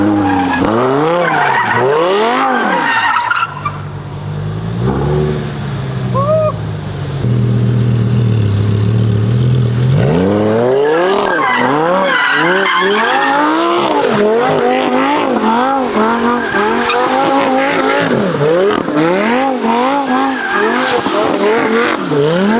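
A Lamborghini doing donuts with traction control off, its tires squealing in long wavering howls over a loud revving engine, continuous and close, with a brief lull before the squeal resumes.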